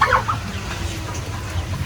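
Month-old chicks clucking and peeping in a new pen, a continuous busy chorus of small bird calls over a low background rumble.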